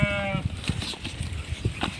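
Sheep on a farm bleating as they are caught, one clear bleat at the start followed by shuffling and handling noises, with people talking close by.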